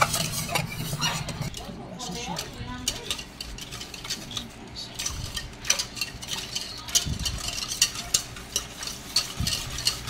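A spoon scrapes and stirs thick maja blanca with cream corn, milk and cornstarch in a pot, giving close, continuous rhythmic scraping and soft clinks of utensil against metal, with faint kitchen noise beneath.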